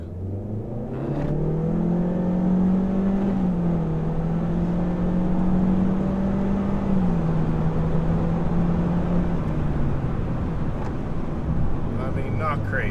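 A 2016 Honda Civic with the 1.5 turbo engine pulls away from a dead stop in sport mode, its engine note climbing steadily through the revs over several seconds, then easing off toward the end.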